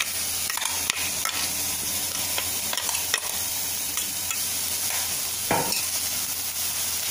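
Drumstick flowers and grated coconut are stir-fried in a pan for poriyal, making a steady close sizzle with repeated scraping stirs. No one speaks.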